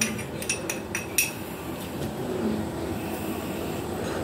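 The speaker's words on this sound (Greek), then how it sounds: "Πάρε ένα κουταλάκι μικρό. Και ξεκόλλησε το." A small spoon clinks and scrapes against a salt container to loosen stuck salt, a few sharp metallic taps at first, then fainter rubbing over a soft background hum.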